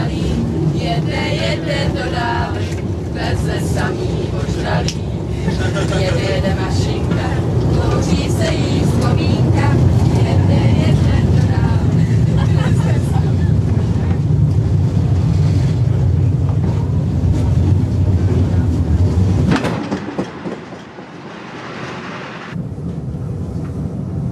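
A train running, its deep rumbling roar steady and loud for most of the stretch before dropping away abruptly near the end, with faint voices mixed in.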